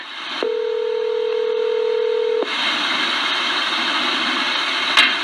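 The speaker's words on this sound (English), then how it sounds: "All right, so I just reached the voicemail box of Cecil" A single sustained telephone dialing tone sounds clearly for about two seconds during a phone call, followed by a steady line hiss and a brief click near the end, with no talking.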